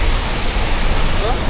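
Yosemite waterfall roaring up close as a thick, constant rush of falling water, broad and loud with no pauses.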